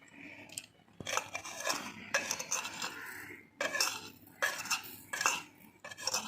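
Salt is added and stirred into chambakka pickle in a pot, giving close, bright clinks and scrapes of a spoon against the vessel in irregular bursts with short quiet gaps, no voice.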